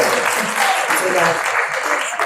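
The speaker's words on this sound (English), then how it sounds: "Let's get a round of applause." Brief audience applause at a public speaking championship, a burst of clapping from the crowd with voices and cheering mixed in.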